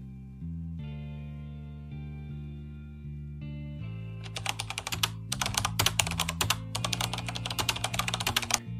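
A full name is typed on a computer keyboard while an online account is being set up. Quick bursts of clicking keystrokes start partway through over a steady background of music.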